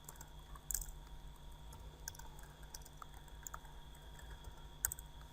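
Faint, sparse clicks of a computer keyboard as text is entered while building a website, with scattered keystrokes and small bursts over a quiet room hum, no talking.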